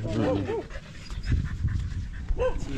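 A dog pants rapidly and close by, breathy huffs running through the whole stretch, with a few higher whimpering yelps at the start and end.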